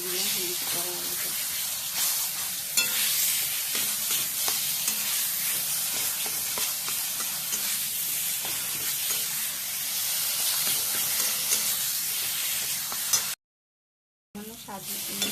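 Boiled potato frying in oil in a pan for a banana-blossom poppy-seed dish, with steady close sizzling and scraping stirs throughout, broken by a brief silent gap near the end.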